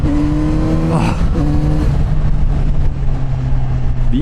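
A Kawasaki Z900RS motorcycle engine runs loud and close, its revs climbing and dropping in steady pulls with a continuous droning roar throughout.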